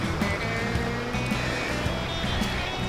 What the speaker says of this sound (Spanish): Cerca porque se escucha bastante caída de agua